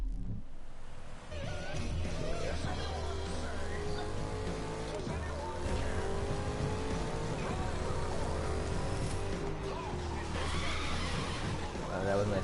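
Car driving in The Crew 2 video game, a steady engine drone with shifting whine and road rumble throughout, with someone talking over it.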